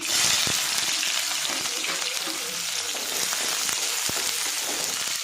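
Onions softening as they sauté in a pan give off a loud, continuous close-up sizzle, with faint clicks and pops scattered through it.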